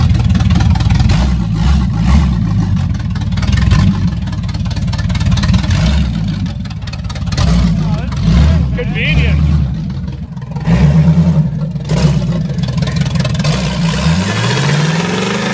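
A Camaro engine roars loud and close throughout a burnout in a yard, revving in sustained surges with rough low rumble, while people talk over it.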